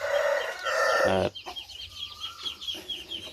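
Pit-raised chickens on a small farm cluck and a rooster crows loudly up close for the first second or so, then scattered softer clucks and calls follow from the flock.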